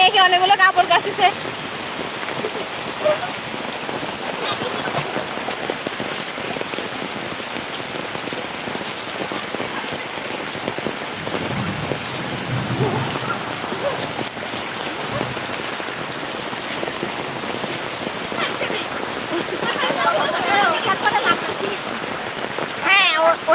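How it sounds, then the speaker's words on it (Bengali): Heavy rain pours steadily onto surfaces in a village setting, a dense continuous hiss throughout with occasional faint voices in the background. "অনেক বৃষ্টি, অনেক অনেক বৃষ্টি, প্রচুর পরিমাণে বৃষ্টি হচ্ছে।"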